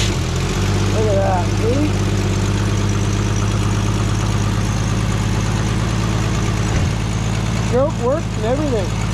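An old car engine idles steadily in a junkyard, a low rumbling drone running throughout while someone talks over it.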